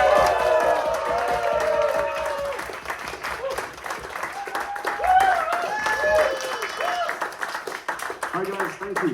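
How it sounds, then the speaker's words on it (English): Comedy club audience breaks into loud applause and cheering for a first-time stand-up comedian, with dense clapping, whoops and raised voices throughout. "Huge round of applause for Archie."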